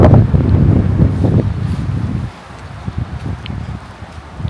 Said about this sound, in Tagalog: Ganun yung hangin dito. Yung hangin actually parang umiikot siya.